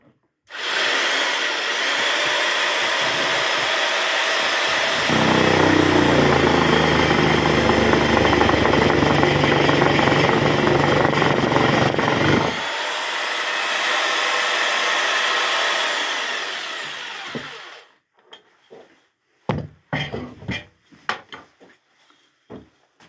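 A cheap electric jigsaw cuts through wood in a loud, continuous buzzing whine that runs close up for about seventeen seconds, roughening while the blade bites, then stops and leaves a few scattered clicks and knocks.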